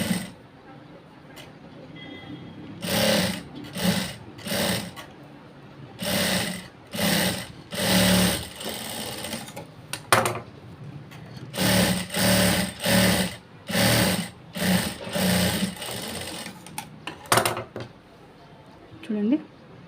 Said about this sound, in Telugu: ఈ భాగానికి క్రాస్ బెల్ట్ అనేది పైకి పెట్టి కుట్టాలి.